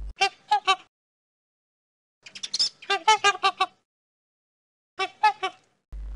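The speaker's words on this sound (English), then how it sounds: "Trumpet swan." Several groups of loud, brassy, horn-like honks from a trumpeter swan, coming in short bursts separated by silent gaps, close and clear with no talking.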